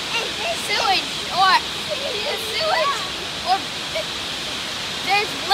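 Steady rush of water flowing at the Chichester Dam, a broad continuous hiss under people talking intermittently nearby.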